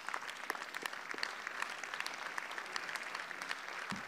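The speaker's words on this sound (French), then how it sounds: "et on peut les applaudir, oui, oui" A crowd at a political speech breaks into applause, a sustained patter of many hands clapping at moderate distance, fairly even throughout with no voices over it.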